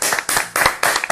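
A short burst of audience clapping for a talent show host, several sharp hand claps in quick bursts, close and loud with no talk over it.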